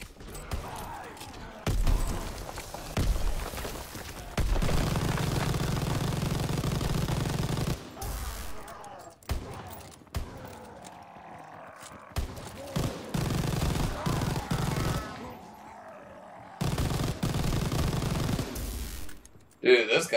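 A light machine gun fires in a Call of Duty WW2 Zombies match on the Groesten Haus map, long sustained bursts of rapid gunfire broken by short pauses, loud and close, with players talking over it.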